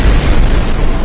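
A missile explodes in the space combat game Rebel Galaxy, a single loud, close, deep boom that fills the short moment with heavy rumbling noise.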